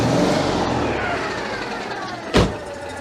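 A worn Citroën 2CV engine idles steadily with a rough, buzzy drone close by, settling slightly over a few seconds before a brief thump near the end.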